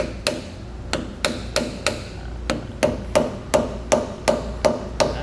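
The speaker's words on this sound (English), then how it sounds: "take a dead blow hammer" A dead blow hammer taps a disc brake part into place with about fourteen sharp, evenly paced blows, each a crisp close knock with a short dull ring, carrying on steadily without talk.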